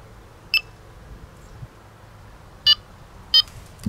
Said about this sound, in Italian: Sentite quanti beep sta facendo?